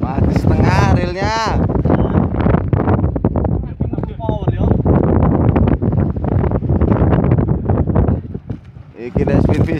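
Strong wind buffets the microphone throughout while fishing from a boat at sea, a loud continuous roar with gusts, and someone talks over it.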